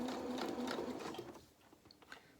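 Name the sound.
sewing machine stitching fabric of a winter cape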